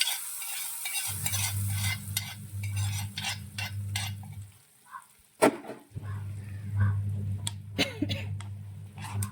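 Tempering is poured and stirred into a mango pulissery curry, with sizzling and crackling, repeated spoon clinks and scraping against the pot, and a low steady hum underneath, close and busy throughout.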